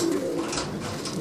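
A pigeon of a Rajan-line breed coos once, close and soft, in a brief, low, throaty burst with no talk over it.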